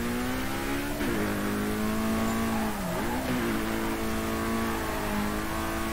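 A car drifting in Need for Speed Carbon, its engine holding a loud, steady rev with sustained tyre squeal, pitch dipping briefly twice as the slide shifts, close and unbroken throughout.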